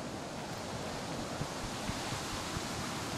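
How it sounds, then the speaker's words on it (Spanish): Ocean surf in the survival video game The Forest, a steady broad wash of waves with faint low thumps, no talking. "¿Qué se escucha, güey? ¡Oh, es el mar!"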